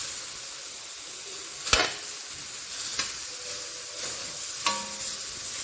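Fresh squid sizzles steadily in a hot pan, a continuous broadband frying hiss with a few sharp clicks and spatters standing out at intervals, close by and with no voices.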